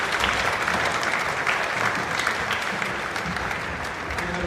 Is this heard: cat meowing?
no